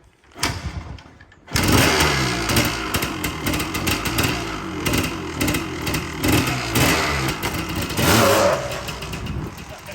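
A Tri-Z barn-find engine, short on fuel and fighting the choke, fires after about a second and a half, then runs roughly with repeated uneven revs and surges close by.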